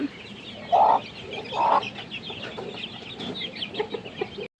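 A young chicken chick held in a small girl's hands on a farm gives two clear, close peeps, followed by softer chirps and clucking from other fowl in the background.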